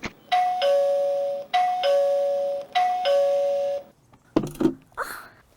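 A Lindo dual camera security video doorbell chimes three times in a row, each a clear two-tone ding-dong that rings out loud and close, followed by a couple of short knocking or handling sounds.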